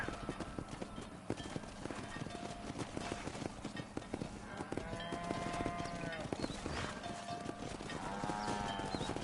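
Horse hooves clip-clopping at a steady riding pace in the video game Red Dead Redemption, a continuous rhythmic beat under game music and background sound, fairly quiet overall.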